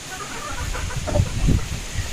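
A pure Golden Boy brood stag rooster gives two short, low clucks close by, one after the other, over quiet background noise.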